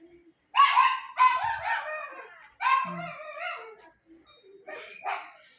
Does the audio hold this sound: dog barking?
yes